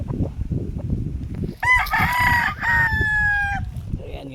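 Gamefowl rooster, a Gilmore Hatch straight comb or a White Kelso, crowing once loud and close, a long drawn-out call over a background of clucking and other farmyard noise.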